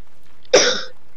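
A single short, sharp cough bursts out close by, then quiet.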